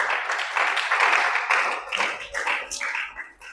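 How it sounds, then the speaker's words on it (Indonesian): A church congregation at a GBI service in Sorong breaks into dense applause, a broad rush of many hands clapping at once that thins into scattered claps. "Tepuk tangan bagi Allah kita."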